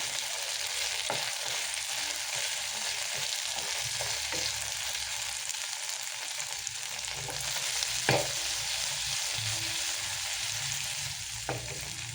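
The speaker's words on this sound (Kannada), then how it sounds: "ಸೊ ಇವಾಗ ಇದನ್ನು ಚೆನ್ನಾಗಿ ರೋಸ್ಟ್ ಆಗೋ ತನಕ ಫ್ರೈ ಮಾಡಿಕೊಳ್ಬೇಕು" Chicken pan roast fries in a pan with a steady, bright sizzle throughout, broken now and then by faint stirring clicks.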